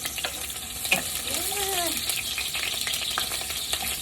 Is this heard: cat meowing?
no